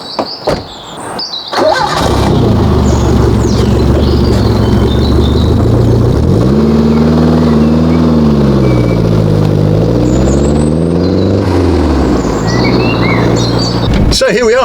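A 30-year-old Renault 5 GT Turbo on the road, its engine droning loud and close from inside the car, pitch climbing and falling through acceleration and gear changes after a brief noisy start.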